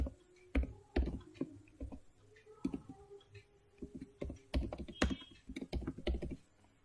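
Someone types Python code on a computer keyboard: a close, irregular run of clicky keystrokes with brief pauses and a few quicker bursts.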